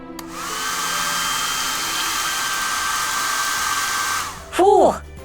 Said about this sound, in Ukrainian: Швидко, несіть фен!